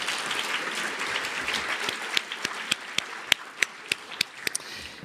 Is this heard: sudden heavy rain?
no